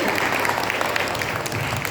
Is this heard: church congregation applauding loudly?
yes